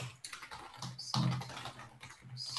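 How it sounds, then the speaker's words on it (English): Someone types on a computer keyboard, a quick, irregular stream of close key clicks and taps with a few heavier strokes, and no talking. "What is happening here while Javier is typing"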